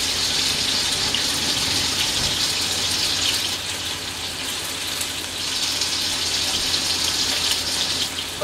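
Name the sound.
running tap water, washing hands at sink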